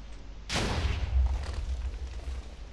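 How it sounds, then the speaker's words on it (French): An anvil cannon fires in the Minecraft video game: a single sharp boom with a deep rumbling tail that fades over a couple of seconds, loud and alone. "ça nous fait un canon à enclume qui permet de projeter des enclumes assez loin"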